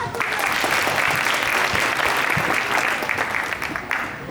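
Warm, steady applause from a parish audience at Christ the King Parish fills a hall as a speaker is invited to the stage, a continuous wash of many hands lasting about four seconds.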